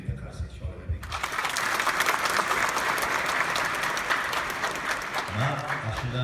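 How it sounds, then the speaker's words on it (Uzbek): An audience breaks into loud, dense applause at a concert, sustained for several seconds before thinning out as a voice returns. "Shu yerga qarsak shoirlik."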